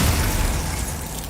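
Glacius ice spell cast in Hogwarts Legacy, a loud, dense burst of crackling, rushing noise that hits at once and slowly eases off over about a second, with no voices.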